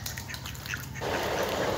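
Ducks near jungle water give soft squawking calls over a low steady background, then a louder broadband rush of water or splashing takes over, all faint and distant.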